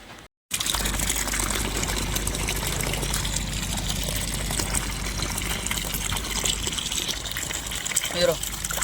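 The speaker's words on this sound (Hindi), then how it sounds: "पानी तो आवे है" Water gushing steadily from a pump, a loud continuous rushing flow that starts abruptly after a short gap and runs unbroken to the end, with outdoor background noise.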